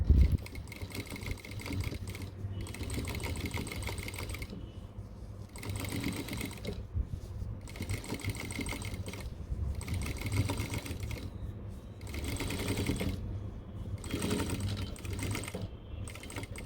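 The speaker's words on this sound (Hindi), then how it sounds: "अभी दूसरे पे भी स्टिचिंग लगा लेते हैं।" Sewing machine stitching cargo pants, running in steady rapid bursts of mechanical chatter that stop briefly and restart several times, close and clear, with no talking over it.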